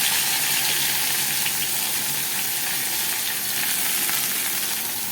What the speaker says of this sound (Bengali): কলমি শাক ভাজা